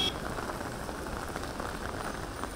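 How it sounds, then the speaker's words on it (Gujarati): Steady rain patters on a surface in Ahmedabad, a dense even hiss of drops with no voices. "ખાસ કરીને સેટેલાઇટ વિસ્તારમાં પણ વરસાદ અને નારોલ અને નરોડા વિસ્તારમાં પણ વરસાદનું વાતાવરણ સર્જાયું છે"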